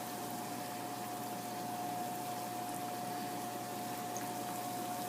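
Scartellate Pugliese pastry, the ribboned wine cookies, sizzles as it fries in a pan. A steady, close, continuous hiss of bubbling with no break and no voices.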